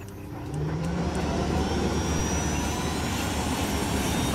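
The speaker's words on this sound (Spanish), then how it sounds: "Tomemos tu helicóptero." Helicopter engine in the video game Ghost Recon Wildlands, a dense, steady turbine roar with broad rushing noise that swells in the first half second and then holds constant and loud.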